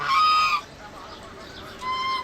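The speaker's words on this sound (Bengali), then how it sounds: "হাঁস মুরগিগুলো ছাদে সবাই আমার ঢোকার সাথে সাথে সবাই সতর্ক হয়ে গিয়েছে" Ducks and chickens on a rooftop give loud, honking cackles at the start and again near the end, with a quieter gap of faint background between the calls.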